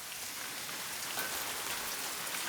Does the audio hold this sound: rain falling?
yes